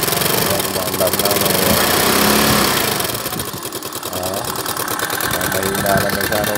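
Motorcycle engine running after an ignition coil modification, a loud, steady buzzing idle with a rapid mechanical rattle, close by and continuous, with a voice partly over it.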